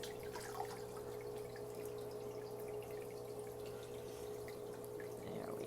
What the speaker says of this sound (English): So I am going to add some water right now to top it off.